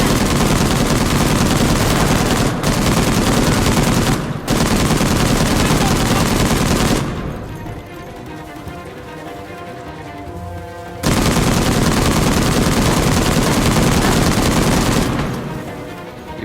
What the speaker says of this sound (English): Give me more enemies, I got the big gun now.